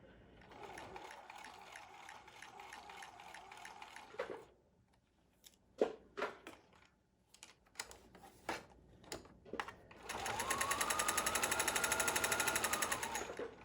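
A sewing machine top-stitching a homemade fabric face mask, heard in rapid whirring bursts that start and stop, with short pauses and clicks between runs before a longer steady stretch of stitching.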